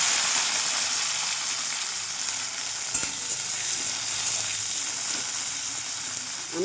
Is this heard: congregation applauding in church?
no